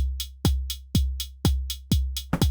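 Drum machine beat on an Elektron Model:Cycles or Model:Samples with a booming four-on-the-floor kick, snare on 2 and 4 and crisp eighth-note hi-hats in a tight, steady, loud loop.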